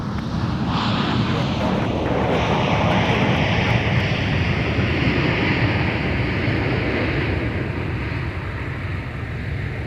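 Airliner jets taxi at Minneapolis–St. Paul airport, giving a continuous close jet roar mixed with wind rumble and no clear breaks.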